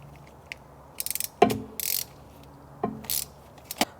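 Ratchet with a long extension tightening bolts on an oil pressure sending unit of a 1991-2005 Acura NSX, heard as quick bursts of clicking pawl strokes and clinks, close and fairly loud, with pauses between turns and no speech.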